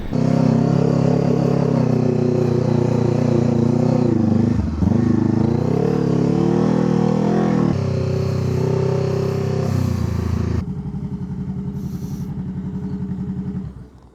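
A Honda CBR 500 twin-cylinder motorcycle engine drones loud and close on a sandy island beach, rising and falling in pitch as it revs, then settling to a lower, rougher idle near the end.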